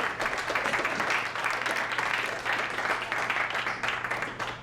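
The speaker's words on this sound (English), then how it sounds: "give all 4 of them a round of applause" Applause from a crowd at a Toronto rally against Bill 5 swells in waves, sustained clapping from many hands at moderate loudness with a low steady hum beneath.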